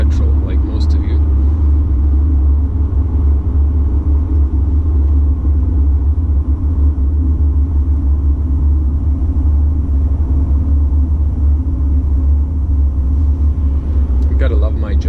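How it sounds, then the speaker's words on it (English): Heavy low rumble of a 2019 Mercedes C-Class 220d facelift diesel driving on Croatian roads, heard from inside as steady road and engine drone with a constant tyre roar, loud and unbroken throughout. "I would say this engine is really nice for a diesel car."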